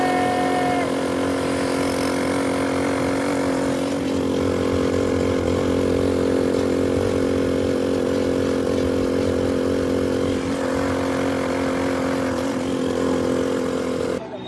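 A motorcycle engine runs steadily at close range, a loud constant idle with slight shifts in pitch throughout and no voices.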